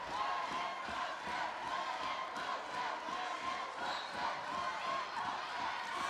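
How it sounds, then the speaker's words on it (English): A roller derby crowd cheers for the Gent team, a steady, dense roar of voices and shouts that fills the whole stretch with no pauses. "crowd going wild"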